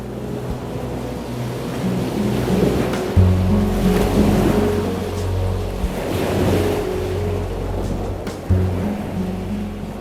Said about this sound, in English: Thor's Well, which is a natural sinkhole that looks like it's swallowing the ocean